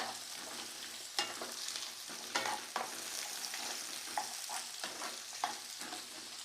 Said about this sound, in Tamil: கேரட்டு போட்டு இது ஒரு 2 நிமிஷம் வதக்கினா போதும்